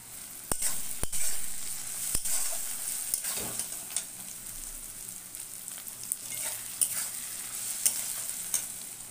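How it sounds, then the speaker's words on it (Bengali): Masala for chilli chicken fries and is stirred in a pan, with a constant sizzle and hiss broken by sharp clacks and scrapes of the spoon, close and moderately loud, no speech. "দিয়ে আমি মশলাটা ভালো করে কষিয়ে নেবো।"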